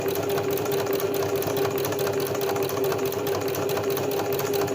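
A sewing machine stitches a sunflower embroidery in a steady, fast mechanical whir with a constant hum, close and continuous, with no talk.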